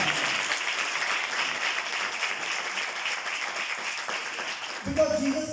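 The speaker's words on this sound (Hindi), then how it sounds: "यीशु मसीह के लिए जोरदार ताली।" A church congregation applauding for Jesus Christ, a sustained wash of many hands clapping at moderate distance, cut off near the end by a sharp electronic tone and a voice.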